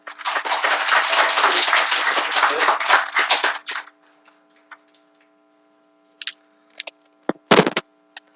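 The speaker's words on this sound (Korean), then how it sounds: "박수로 한번 모시겠습니다." Applause from an audience at a hospital stroke health lecture, a dense burst of clapping for about four seconds that stops abruptly, followed by scattered faint clicks and a brief loud knock.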